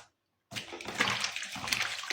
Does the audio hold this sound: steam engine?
no